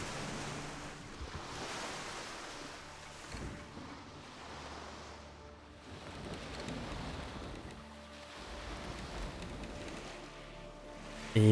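Wind and rolling ocean surf around a sailing ship in Skull and Bones, a broad continuous wash that rises and falls in slow surges, fairly faint and alone.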